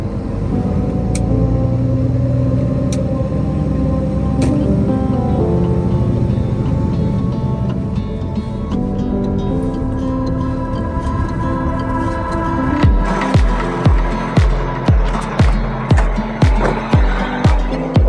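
Hotshot pickup truck engine rumbling steadily up close as it maneuvers to back an RV between a large fifth wheel and a bumper pole, later joined by a series of rhythmic clunks; no talking.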